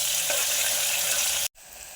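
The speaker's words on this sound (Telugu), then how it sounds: "ఉల్లిపాయలు ఇలా ఎగుతున్నాయండి." Sliced onions fry in hot oil with bay leaf, cloves, cinnamon and cardamom for tomato rice, giving a steady, close, bright sizzle that cuts out abruptly near the end.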